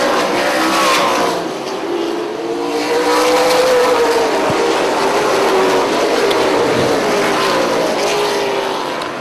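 Late model stock cars racing around a short oval track, engines roaring loud and close as the pack passes nose to tail into a turn, pitch sweeping as cars go by.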